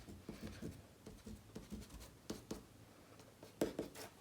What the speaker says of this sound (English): Now I can erase part of that circle.